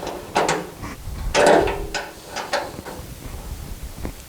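Ratcheting clicks from tightening a bolt on a jointer's motor mount, coming in short close bursts with a louder mechanical clatter midway.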